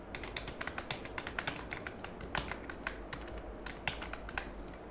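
Typing data into an Excel spreadsheet on a computer keyboard, a rapid irregular run of close key taps and clicks with no talk.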